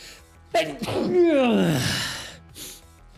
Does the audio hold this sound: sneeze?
yes